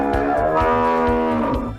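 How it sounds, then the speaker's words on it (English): A cow lets out a loud, drawn-out moo close by, lasting nearly two seconds with a low, throaty tone. "That was a cow."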